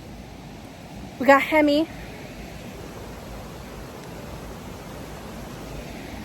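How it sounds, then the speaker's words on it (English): A stepped series of waterfalls ending in a double waterfall on a Colorado mountain trail rushes as a steady, broad wash of water noise, and a voice speaks briefly over it. "We're out by the water again, where the it steps down in waterfalls, and then at the end it's a double waterfall."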